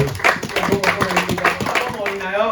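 A church congregation claps and cheers at a sermon, rapid rhythmic handclaps mixed with loud voices and shouts of acclaim, close and lively.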